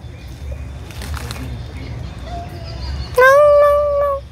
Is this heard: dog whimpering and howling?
yes